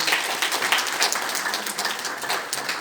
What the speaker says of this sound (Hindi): देखो इनके लिए आप ताली बजाइए।